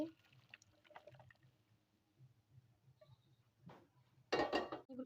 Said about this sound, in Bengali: পানিগুলো পুরোপুরি ঝরে যাওয়ার জন্য আমি এভাবে দশ মিনিট রেখে দিচ্ছি